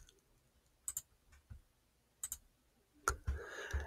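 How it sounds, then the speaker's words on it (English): Mouse clicks on a downloaded installer file in a Windows download folder, two sharp click pairs spaced apart followed by a louder click and faint rustling handling noise, quiet and close. "just double click on it"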